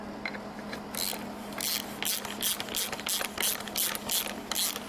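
A Harbor Freight puller tool presses the crank pulley off a Toyota 3SGTE engine from an AW11, giving a series of sharp ratcheting clicks in bursts over a steady low hum, close and fairly loud.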